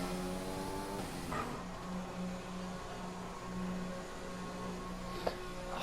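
A race car in a racing video game pulls into the pits, its engine holding a steady, even drone with a faint tick near the end, and no talking.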